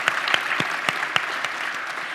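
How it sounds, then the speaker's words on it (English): Audience applause at the EmberConf 2018 closing keynote, a short burst of dense clapping with a few sharper claps standing out, steady and fairly close, with no voices over it. "let's do a round of applause for that"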